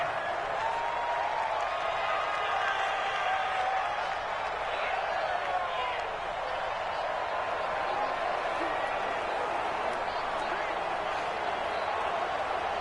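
Stadium crowd noise from the Madden 20 football video game, a Bengals versus Ravens home game, forms a steady, loud roar that holds for the whole stretch with faint whistles and swells inside it, alone without talk.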